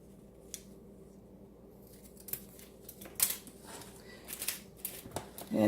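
Scissors snip the ends of a ribbon into dovetails, giving a few quiet, sharp cuts and rustles close by that grow busier toward the end.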